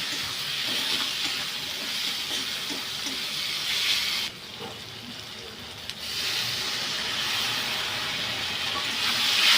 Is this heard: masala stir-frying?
yes